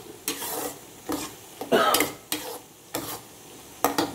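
A spoon scrapes and stirs food with salt in a frying pan, giving about seven sharp strokes spaced unevenly over a soft sizzle, close and fairly loud, with no voices.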